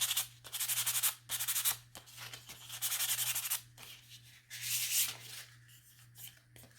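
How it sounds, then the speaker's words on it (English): Quick hand sanding of a purple-painted wooden frame, broad scratchy bursts of abrasive strokes in uneven rhythm, loud and close, with a steady low hum underneath and no talking. "we're just gonna give it a quick sand."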